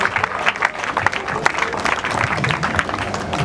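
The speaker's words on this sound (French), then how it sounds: "Acclamons pour l'encourager" An audience at a funeral tribute claps together in a steady patter of applause, with crowd murmur and voices mixed in under the clapping.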